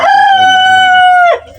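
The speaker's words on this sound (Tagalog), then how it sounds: "medyo dami na ang aking mga manok" A rooster in a backyard flock lets out one loud, sustained crow close by that stretches over a second and ends with a brief rough drop-off.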